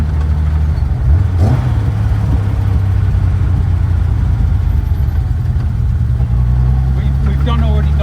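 A road-legal Porsche 917 Le Mans race car, worth £1m, drones with a deep, loud engine note that swells briefly early on, while people talk over the steady rumble.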